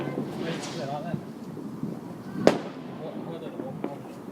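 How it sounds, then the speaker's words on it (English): Bonfire night fireworks outdoors: scattered distant pops and whooshes with one sharp, louder crack midway, heard beneath ongoing chatter from people nearby. "fireworks"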